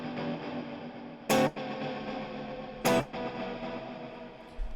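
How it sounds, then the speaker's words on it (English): Detuned plex delay on an Axe FX 3 guitar processor: a thick, smeared haze of repeating guitar echoes with slight distortion, broken by two sharp bursts of noise, steady and without speech. "You hear how detuned all the delays are?"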